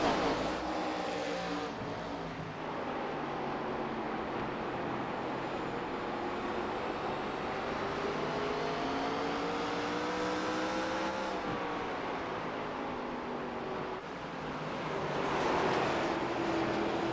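ARCA stock cars racing at Myrtle Beach Speedway: a steady, loud engine roar with rising and falling pitch as cars pass, sustained throughout with no talk.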